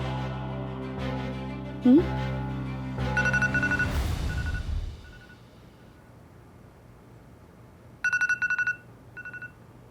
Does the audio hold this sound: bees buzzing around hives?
no